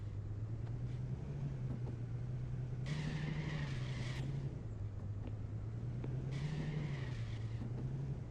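A car in Car Dealer Simulator drones along with a steady engine hum, and two bursts of tire squeal from handbrake skids cut in, each lasting about a second and a half.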